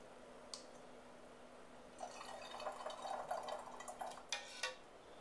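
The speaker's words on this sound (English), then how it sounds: "now I'm just going to ladle it in." Thick homemade ketchup is ladled through a funnel into a jar, giving quiet wet glugs, drips and squishy pours over a couple of seconds with a few small clinks, faint and close, without talk.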